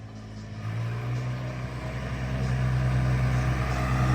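A Yanmar AF28 Mark III tractor's three-cylinder, 28-horsepower diesel engine runs at a steady, even idle. The low, continuous rumble swells slightly toward the end, with no voices.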